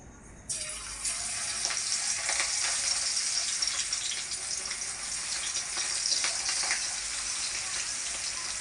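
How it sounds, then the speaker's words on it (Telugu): Chicken pakodi frying in hot oil, a loud, steady close-up sizzle that bursts in suddenly and holds strong throughout with no talking. "ఇట్లా కలుపుకొని ఇక పకోడీ వేసుకుందాము"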